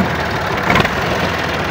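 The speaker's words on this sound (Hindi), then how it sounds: "मैसी 260 ट्रैक्टर है" A Massey Ferguson 260 tractor's diesel engine runs steadily at a fish-farm earthworks site, a close, continuous low rumble with a slight surge midway.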